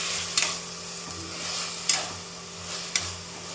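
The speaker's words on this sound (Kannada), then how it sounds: "ಈ ಸೊಪ್ಪುಗಳೆಲ್ಲ ಎಣ್ಣೆಲೆ ಚೆನ್ನಾಗಿ ಫ್ರೈ ಆಗಬೇಕು." Mint and fenugreek leaves frying in oil for methi pulao, a steady soft sizzle with a few sharp spoon scrapes and clacks as the greens are stirred, close up.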